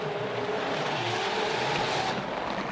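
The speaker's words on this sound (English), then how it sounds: "Weird sounds from Arkady's GTR." A 1200-horsepower Nissan GTR drift car at an RDS GP drift championship round in Vladivostok runs its engine, giving a steady loud broadband roar with an odd sustained tone, no talk.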